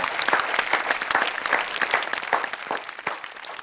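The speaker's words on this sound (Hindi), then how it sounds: "एक बार ज़रा ज़ोरदार तालियां" Studio audience at a Hindi comedy and poetry stage show bursts into loud, dense applause, a thick continuous roar of clapping with rapid, uneven peaks.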